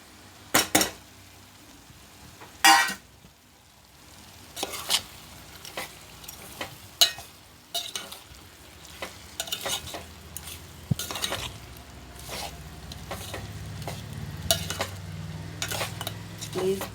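Potatoes frying in a pan while a utensil stirs them, giving repeated scraping clinks of metal on cookware over a low, steady sizzle, near and clear with no talk.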